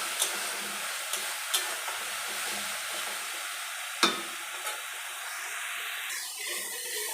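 Taro (kochu) flowers fry in a pan with a steady, close hiss of oil, broken by a few sharp spatters and a louder clatter near the middle as the frying winds down.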